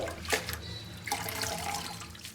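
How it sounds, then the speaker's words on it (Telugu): Amaranth greens are rinsed in water, giving soft splashing and trickling sounds that swell briefly and then settle into a steady faint wash, close by with no talking. "ముందుగా ఒక కొట్ట తోటకూర తీసుకొని వేర్లు తీసేసి 4-5 సార్లు బాగా కడగండి."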